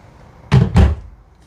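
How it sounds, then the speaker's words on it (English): Two quick hard thuds of a non-soft-close cabinet door shutting inside a Jayco Pinnacle 38FLGS fifth wheel RV, close and loud, with no talking. "None of the cabinetry is soft closing, but the drawers are"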